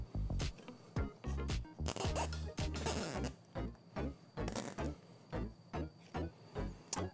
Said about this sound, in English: Now, tightening the zip tie.